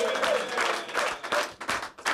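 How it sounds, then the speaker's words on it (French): An audience applauds and cheers to celebrate a hockey team at a televised special event. The clapping comes in dense, fairly faint bursts across the clip. "on s'applaudit encore plus fort"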